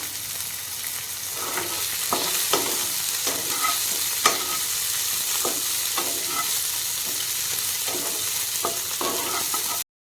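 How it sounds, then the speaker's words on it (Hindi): Capsicum and onion fry in a pan for a chilli soybean dish, a loud continuous sizzle close up, with regular spatula scrapes and stirring taps throughout until it stops suddenly. "एथिरे आम ऐड करदे हमार कैप्सिकम को गोटे रू 2 मिनट फ्राए करदे"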